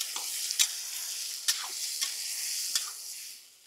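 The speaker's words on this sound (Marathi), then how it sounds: "कांदे आणि टमाटर एकदम सॉफ्ट होईपर्यंत ग्रेव्ही आपण अशीच परतून घेऊ" Onion and tomato gravy with cloves and bay leaf sautéing in a pan: a steady soft sizzle with a few sharp spoon scrapes and taps stirring through it, close and alone.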